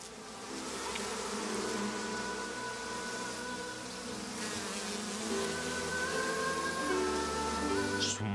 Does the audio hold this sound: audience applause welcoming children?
no